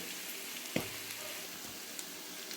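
Vegetables, including cauliflower, fry in a pan for fried rice. A dense, even sizzle runs throughout with one or two brief pops or stirring taps.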